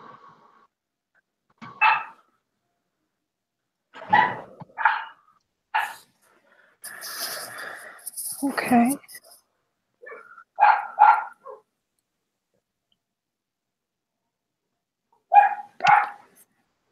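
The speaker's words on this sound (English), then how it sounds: "Sorry about my dog." A dog barks in sharp, separated bursts close by in a quiet room during a statistics lesson, with a brief spoken word and some breathing between the barks.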